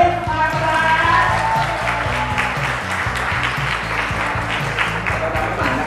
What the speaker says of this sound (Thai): ขอเสียงปรบมือต้อนรับน้องอ่ะปริศมาครับ